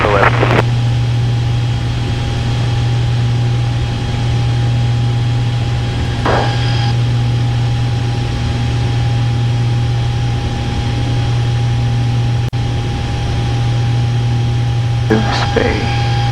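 A steady, loud engine drone fills the cockpit of a Piper airplane in flight. Brief radio clicks and faint voice bursts cut in over the constant hum.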